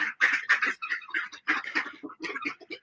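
Several ducks quack in a rapid, overlapping chatter outdoors at a petting zoo, close and fairly loud, with short bursts of calls packed one after another and brief gaps between.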